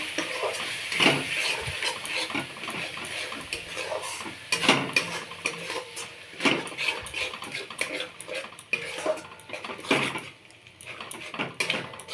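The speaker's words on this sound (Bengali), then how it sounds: "এখন এই মশলার মধ্যে আমি একটু টক দই দিয়ে দেবো আর একটু কাশ্মীরি লঙ্কা গুঁড়ো দিয়ে দেবো আবার একটু কষে নেব মশলাটা" A spice paste with sour yogurt and Kashmiri chili powder sizzles in a pan for a fish kalia, with a continuous frying hiss, frequent scraping stirs and occasional clinks of utensil against the pot, close up.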